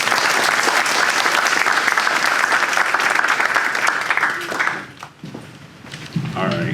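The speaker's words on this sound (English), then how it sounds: "Give her a round of applause." An audience at a university alumni military panel gives a loud round of applause that fades out after about five seconds, followed by quieter room sounds.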